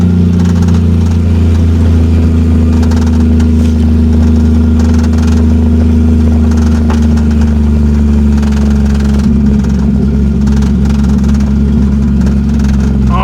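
A 1987 Toyota Supra with a swapped 2JZ-GE NA-T six-cylinder engine runs nearby at a steady idle, giving a loud, continuous low drone with faint changes in pitch as the car creeps along.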